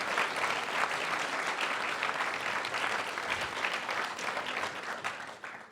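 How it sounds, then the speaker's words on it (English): A live forum audience applauds its sixteen mayoral candidates, a dense, sustained wash of clapping from a large crowd that tapers off slightly toward the end. "please give our candidates a round of applause for making it through"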